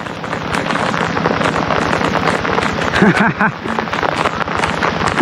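Steady rain pours down outdoors in a continuous dense patter, with someone talking over it throughout.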